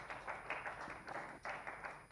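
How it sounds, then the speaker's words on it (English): An audience applauds panelists at a media dialogue, a steady patter of many hands clapping at moderate distance, with no talk over it. "Can we give a big round of applause to our panelists, Barbara,"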